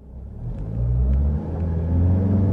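A cartoon car fails to slow down near a road works pit, producing a steady low engine rumble with a brief dip midway before it swells again, loud and continuous with no talking.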